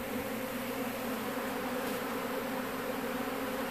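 Honeybees buzzing steadily around a hive during a bee removal, a dense, continuous drone that stays even and close throughout.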